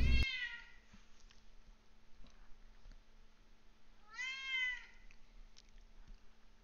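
A domestic cat meows twice, a short call near the start and a longer, drawn-out meow a few seconds later, heard close and fairly clear over a quiet room with a faint steady hum.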